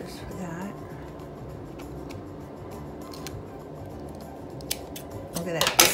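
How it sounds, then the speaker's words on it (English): A few sharp snips from fabric scissors cutting fabric while making a journal or photo album, with faint background voices and soft handling sounds, ending in a louder clatter. "My fabric scissors for that."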